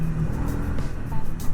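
A Triumph Speed 400 motorcycle pulls hard under acceleration, its engine note loud and close, rising and surging over about a second and a half with no voices.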